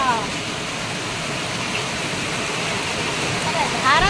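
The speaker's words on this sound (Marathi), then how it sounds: "आता सुरतला लय पाऊस होते, बरोबर धाराच लागत्या" Heavy monsoon rain pours steadily outdoors in Surat, an even wash of noise that lasts throughout, with a voice faintly at the edges.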